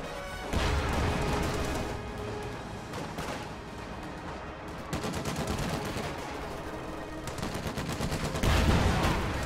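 Dense, loud battle gunfire in a World War II strategy video game, with machine-gun bursts, rifle shots and crashing impacts going on nonstop and building again near the end, with no talking.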